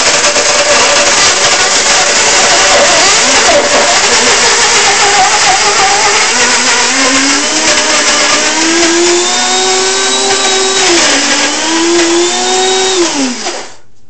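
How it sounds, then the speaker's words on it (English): A blender whirs loud and steady while blending chocolate candy bar ingredients, including sunflower seed and mesquite, its motor pitch shifting as the mix thickens before it winds down at the end. "Okay, so I'm gonna blend this up."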